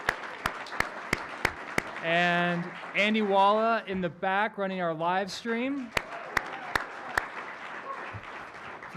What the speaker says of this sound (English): can we get a round of applause for Jody?